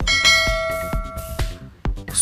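A bright notification bell chimes several times in quick succession, each struck tone ringing out with long sustained overtones, loud and close with no talking.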